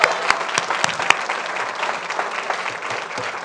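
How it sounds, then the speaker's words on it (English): Applause at a school board meeting honouring a student, with a few sharp nearby claps at the start and then steady, fairly loud clapping from the room that gradually thins out. "let's give a round of applause first up for Isabella."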